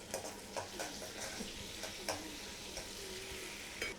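Cinnamon, cardamom and cloves sizzle in about 50 grams of hot butter in a kadai, a soft, steady frying crackle with light intermittent ticks and stirring clicks, quiet and close, with no voices.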